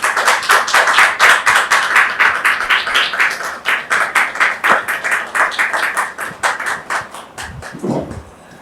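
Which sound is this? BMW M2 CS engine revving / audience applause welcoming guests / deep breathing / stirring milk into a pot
audience applause welcoming guests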